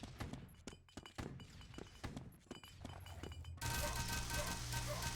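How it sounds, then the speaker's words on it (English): A grenade in the video game Doombringer: a string of thudding in-game impacts and clatter is cut off by a sudden loud, sustained blast that fills the rest of the moment. "Good old grenade."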